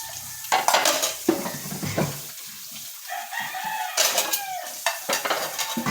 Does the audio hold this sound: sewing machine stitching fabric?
no